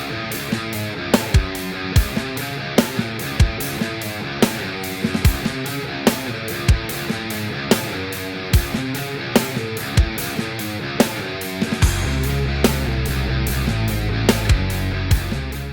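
A full metal drum mix pounds along with a Gretsch bell brass snare cracking on a steady beat over a Guru 22 kick, dense cymbals washing throughout, and a heavier low rumble entering near the end.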